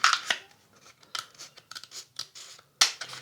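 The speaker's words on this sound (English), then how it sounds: "And then cut along the tube." Scissors snip and slice along a cardboard tube in a run of short, crisp cuts with brief pauses between them, close and fairly loud, ending in one sharper snip.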